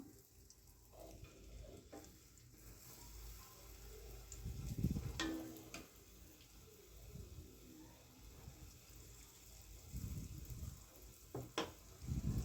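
Wheat bonda batter fries in hot oil with a soft, steady sizzle, rising into louder bursts of bubbling as batter drops in, alongside faint clinks of a ladle.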